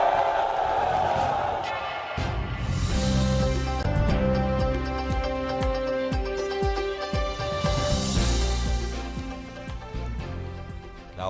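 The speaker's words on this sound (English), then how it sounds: "That was a big crowd." Large outdoor crowd in Oghara, Delta State, singing a rhythmic chant in unison about James Ibori, loud and sustained with a steady pulsing beat and many voices blending throughout.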